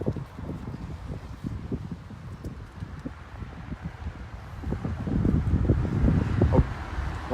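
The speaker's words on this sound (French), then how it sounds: "il y a un peu de vent, j'espère que vous m'entendez bien." Wind buffets the microphone in a cemetery at Desertines, low, gusty rumbles that swell and fade irregularly, growing stronger toward the end.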